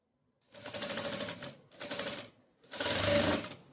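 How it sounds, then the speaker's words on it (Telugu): A sewing machine stitches a folded, rounded blouse front neckline in three quick bursts of rapid, even needle rattling, separated by short pauses, close and alone with no talking. "ఇలా రౌండ్ వచ్చేటట్టుగా ఫోల్డింగ్ చేసుకొని ఇలా కుట్టేసేసుకోవాలి"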